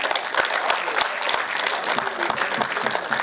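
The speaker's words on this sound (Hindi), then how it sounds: "तो एक बार जोरदार तालियां बजा दो।" Dense, steady applause from an audience at a Hindi poetry recital, a loud crowd of many hands clapping continuously throughout with no pauses.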